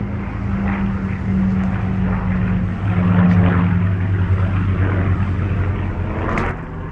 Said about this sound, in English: Oh, Spitfire again. There it is, see, look.